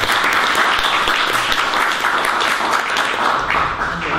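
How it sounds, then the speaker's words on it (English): Sustained audience applause for Gavin Wade at a university gallery talk, a dense steady wash of many hands clapping throughout, fairly loud and with no one speaking over it. "We should have done a round of applause for Gavin Wade."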